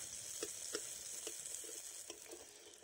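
Sakrali pitha cakes frying in oil, a steady soft sizzle with faint intermittent pops and light crackles, close and quiet, no voices.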